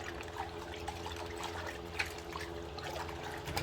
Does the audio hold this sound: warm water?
yes